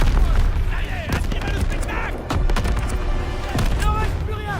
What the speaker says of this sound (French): Impossible d'avancer, ces mitrailleuses tirent sur notre position.